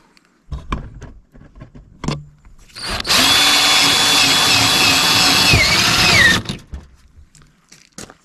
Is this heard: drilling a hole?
yes